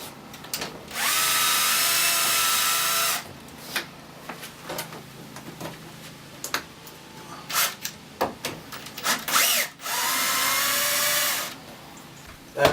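Power drill whirring in two sustained bursts while removing screws from a caravan wall panel, close and loud, with clicks and knocks of handling between them.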